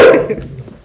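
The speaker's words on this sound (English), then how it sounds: "that's my dog." A dog gives one loud, close bark that fades quickly, heard alone during an online call.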